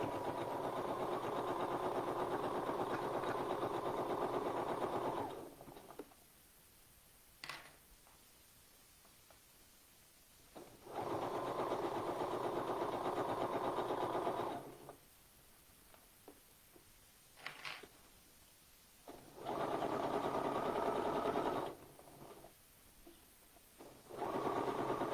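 A sewing machine stitches knit fabric in three sustained runs of steady whirring, each several seconds long, separated by quiet pauses with faint handling clicks.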